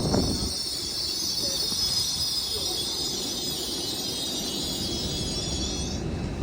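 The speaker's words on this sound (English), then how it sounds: "here we have the LNER Azuma that will be forming the service to York" LNER Azuma train 801102 stands at Peterborough station with a steady electric hum and hiss, a faint high whine over the top and a slight squeal from the wheels.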